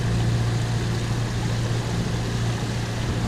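A boat motors across a calm, windless sea on a crossing to Menorca, its engine giving a steady, low droning hum with a constant wash of water noise and no voices.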